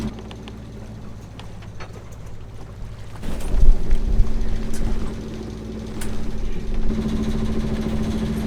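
A sailing catamaran motoring under engine power near St. Vincent, a steady low engine drone that grows louder midway with wind and water noise, no talk.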